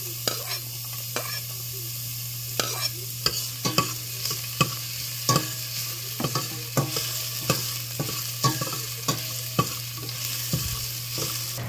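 Garlic fries in hot oil in a pan with a steady sizzling hiss, broken by regular sharp clicks and scrapes of a spatula stirring, close up and with a low, constant hum underneath.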